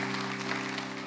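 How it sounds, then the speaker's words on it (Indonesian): A church congregation applauding, a dense steady clatter of clapping from many hands throughout the short stretch over a low hum. "Oh kasih tepuk tangan untuk Tuhan."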